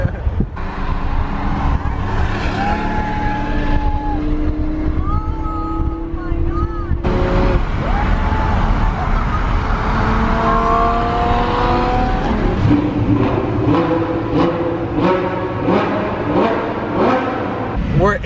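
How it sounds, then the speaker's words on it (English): Car engines rev loudly and continuously inside a tunnel in Dubai, several high-performance cars including a Bugatti, the roar rising and falling with pitch sweeps and sharp bursts throughout. "I can hear them, like they're revving all the way up front"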